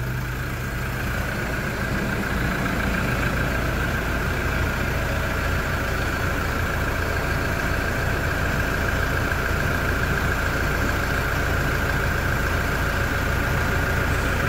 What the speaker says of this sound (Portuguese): Se você vier na frente do carro, ele muda o barulho, ó.